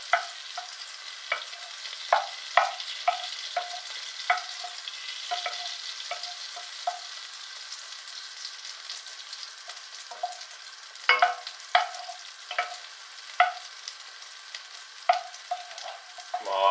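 Fat melts and sizzles in a hot pan, a steady bright crackle with frequent small pops and spits that cluster now and then into short louder bursts.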